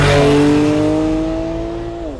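A 2015 Porsche 911 Carrera GTS engine roars at high revs, holding a steady, loud tone before dropping in pitch as it eases off.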